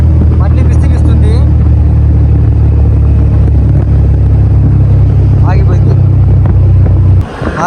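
A Yamaha MT15 motorcycle engine runs steadily during a riding mileage test, a loud continuous low drone with wind buffeting the microphone, then cuts out abruptly near the end; someone talks over it.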